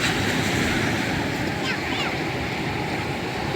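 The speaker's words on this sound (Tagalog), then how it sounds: "Nasagwakan ang alon." An ocean wave crashes onto a boat at sea, a loud sustained wash of spray and surf with wind noise battering the microphone, close throughout.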